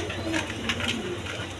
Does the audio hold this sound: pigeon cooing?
yes